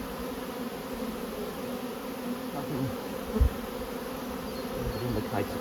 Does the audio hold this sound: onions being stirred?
no